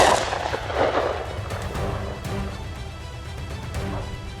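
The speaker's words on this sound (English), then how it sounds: "Instantly, a sharp gunshot rang out." A sharp gunshot during a wild boar hunt on a mountainside, a loud crack at the start followed by a rumbling, echoing tail that fades slowly, with no voices.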